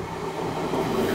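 An IC3 diesel train passes steadily at close range, a continuous low roar with rail noise and no voices.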